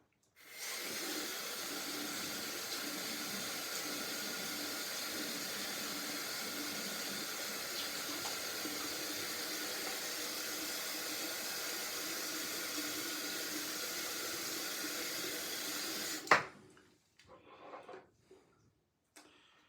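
Tap water runs steadily into a sink to wet a face before a straight razor shave, a constant close hiss that stops abruptly near the end, leaving a few faint clinks.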